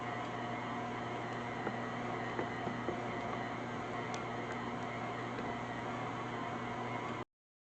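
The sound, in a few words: mixer kneading bread dough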